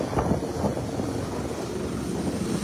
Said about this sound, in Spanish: Así en estos momentos el aterrizaje.